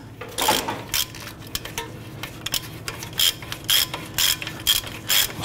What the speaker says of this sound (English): Spin off that upper nut.